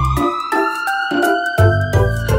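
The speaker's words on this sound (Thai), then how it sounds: "รถดับเพลิงคันโตสีแดงเห็นอยู่ข้างหน้ามุ่งตรงไปพร้อมเสียงไซเรนและแสงไฟ" A big red fire truck siren from a children's learning song sounds loudly alone, a stepped, repeating wailing tone cycling several times.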